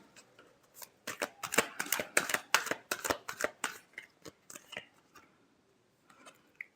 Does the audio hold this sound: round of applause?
no